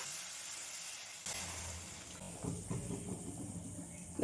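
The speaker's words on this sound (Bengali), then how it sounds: "এবার আমি জল দিয়ে দেবো।" Water is poured into a hot kadai of boiled kabuli chickpeas and potatoes for a vegetarian paneer curry, bursting into a hissing sizzle that keeps bubbling and crackling close by.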